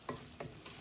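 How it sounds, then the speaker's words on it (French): Rice being stirred with parsley in a frying pan, three quick scraping strokes of the spoon over a soft, steady sizzle, close and without speech. "On mélange bien avec le persil qui nous restait tout à l'heure pour avoir une petite fraîcheur de persil"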